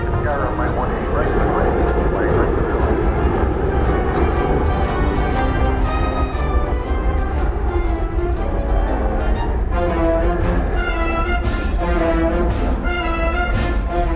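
Aircraft engine noise at DFW Airport, a steady loud roar filling the whole stretch with a sustained tonal hum, heard from the runway area.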